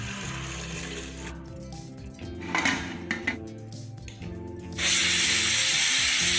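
Pots and pans clank and rattle in a home kitchen as potatoes are set to boil, a few close metallic knocks followed by a steady loud hiss.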